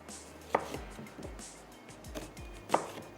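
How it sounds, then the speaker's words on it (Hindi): A knife chops through a large onion on a cutting board in a few sharp, separate strikes with pauses between them, close and clear, and no voices. "प्याज है उसको हम चॉप कर लेंगे"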